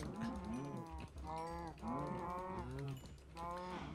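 Several cows mooing in a Minecraft farm pen, long low bellowing calls overlapping one after another, loud and close throughout with no talk.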